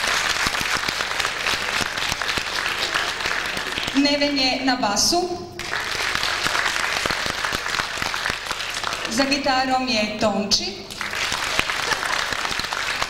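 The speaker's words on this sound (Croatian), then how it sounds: "Znam da ste se čuvali za ovaj doista veliki aplauz koji ćemo pokloniti našem orkestru večeras" An audience applauding a band at a concert, with dense sustained clapping throughout and a man announcing the musicians over it in two spoken bursts.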